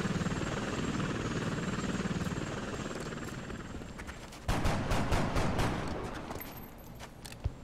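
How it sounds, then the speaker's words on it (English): Gunfire in the strategy game X-COM Long War, with extra enemy forces moving in: a dense rattle of rapid shots bursts in partway through, over a steady droning rotor-like engine hum, with no talk. "Dude, someone just shot"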